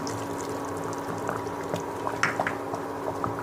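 A pot of pepper marinade bubbles steadily on the stove, with soft liquid pops and gurgles over a constant low hum.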